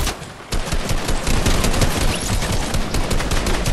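Rapid gunfire fills a shooter video game, with a brief lull before sustained automatic bursts crackle loudly and nearly continuously to the end.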